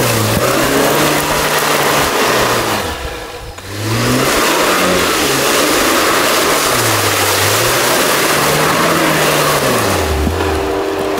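A Nissan Patrol M57 or Jeep Wrangler Rubicon off-road 4x4 revs hard through mud, the engine note swinging up and down in repeated loud surges as the wheels spin, with a brief dip midway before the roaring resumes.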